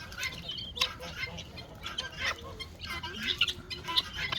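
Guinea fowl on a farm eat fat and let out scattered sharp, high calls at moderate distance, over a low background rustle.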